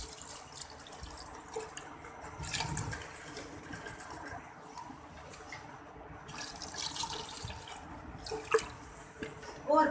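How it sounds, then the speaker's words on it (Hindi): Water pours steadily into a cooking pot of chicken haleem, a continuous splashing, trickling wash at close range with a few brief louder surges and no talking. "ये सारा पानी इसके अंदर हम डाल देंगे।"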